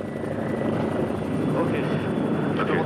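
A rescue helicopter hovers about twenty metres above a ski slope, its rotor and engine giving a loud, steady, close drone that holds through the whole stretch.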